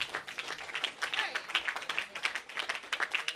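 Audience applause for a guest introduced at an evening event, a dense patter of many hands clapping at moderate volume with no voice over it.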